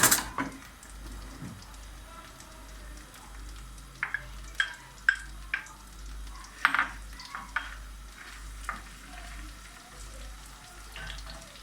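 Red peppers dropped into a pan for a buttery shrimp casserole, a low sizzle with a series of clinks and scrapes of utensil against the pan, over a faint steady hum.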